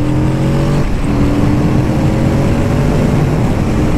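Engine of a Kawasaki Z650RS A2 retro motorcycle, a small parallel-twin, rumbling loud and close with steady harmonic tones that shift pitch as it revs, no talking over it.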